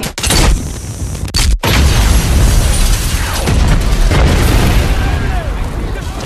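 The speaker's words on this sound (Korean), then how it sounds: "갑자기 연속으로 두 번의 폭발이 일어나고" Two explosions in quick succession in a Korean film based on a true story: a loud boom, a brief break, then a second massive blast followed by sustained roaring debris and rumble.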